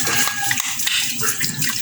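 Water poured from a tap or container into a bowl of Cerelac baby food, a loud continuous splashing stream running close by without pause.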